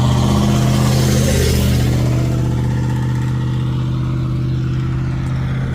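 A truck engine running without a muffler roars loud and close in a steady, raspy drone that rattles throughout.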